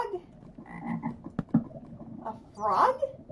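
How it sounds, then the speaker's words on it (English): A frog in a cave in Minecraft croaks in short, repeated bursts, fairly close and clear, ending with a louder, rasping croak. "Why do I hear a frog?"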